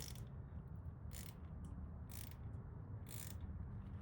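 A ratchet turns out the last bolt on a VW MK7 EA888 Gen 3 cam cover, four short, evenly spaced clicking bursts, faint and close, over a steady low hum.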